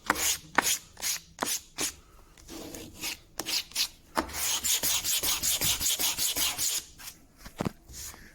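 Sandpaper rubbing over plywood vice jaw cheeks, a woodworking vice upgrade, in a close, steady series of rasping back-and-forth strokes, brief and spaced at first, then quickening into a fast continuous run before slowing again.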